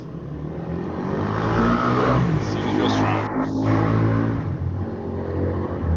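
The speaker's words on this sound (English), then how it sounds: "I hope this car noise isn't coming through my mic" A car engine revs and accelerates nearby with a sustained, fairly loud roar that builds and holds, while a person speaks briefly over it.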